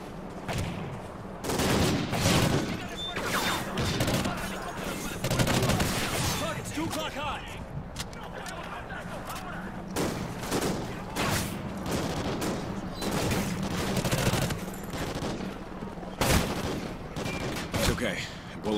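Call of Duty: Ghosts combat gunfire, dense bursts of rifle and automatic shots crackling throughout with a few heavier booms, while voices shout over the firefight.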